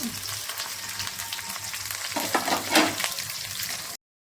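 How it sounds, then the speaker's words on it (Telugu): Green chilli and onion frying in oil in a pan, giving a steady close hiss with a few louder crackles and stirring scrapes toward the end before it cuts off. "వేసుకొని కొంచెం పచ్చిమిర్చి, తర్వాత ఉల్లిపాయ కొంచెం వేగనివ్వాలి."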